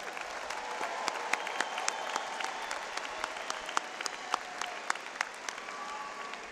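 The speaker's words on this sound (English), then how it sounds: "would everyone please join in applauding all of these outstanding graduates?" An audience at a spring business-school commencement ceremony applauds the graduates, a broad, moderately distant wash of clapping from a large crowd in a hall, steady throughout with scattered louder individual claps.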